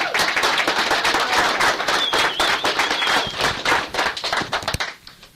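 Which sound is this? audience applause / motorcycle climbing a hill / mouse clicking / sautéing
audience applause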